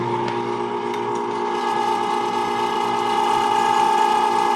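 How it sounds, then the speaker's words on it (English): An electric meat grinder grinds four pounds of meat, its motor holding a loud, steady, close hum with a constant mechanical whine and slight rattling throughout. "Just for fun, I'm going to start my stopwatch and see how long it takes to grind 4 pounds of meat."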